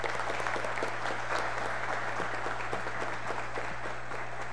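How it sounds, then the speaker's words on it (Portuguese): Sustained applause fills a municipal legislative chamber in Cacoal, honoring local athletes; dense, steady clapping from a seated audience continues throughout at an even level, with a low constant hum underneath and no speech. "gostaria de uma salva de palmas para os nossos atletas"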